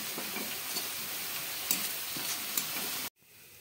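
A spoon stirs papaya laddu mixture around a hot pan, making a continuous close scraping and sizzling with a few sharp clicks before it cuts off abruptly.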